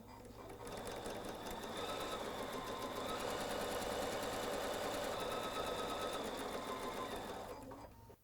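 A sewing machine stitches patchwork in a steady, continuous mechanical whir with a fast needle rhythm, running for several seconds before stopping, close and fairly quiet.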